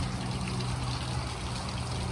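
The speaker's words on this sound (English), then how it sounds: "And another little mini waterfall." Small mini waterfall beside a hiking trail on the Bruce Trail, a steady broadband rush of falling water, continuous and fairly close.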